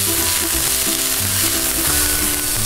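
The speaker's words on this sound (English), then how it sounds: "We'll stir fry this for a bit." Steady loud sizzling of chicken chow mein vegetables stir-frying in a hot pan over high heat, with occasional scraping and clanking as it is stirred.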